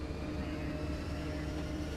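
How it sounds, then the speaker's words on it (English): A steady, loud jet-engine-like roar from a train in Train Simulator 2014 drones on without a break, dense and unchanging throughout. "what is that noise? It sounds like a jet engine."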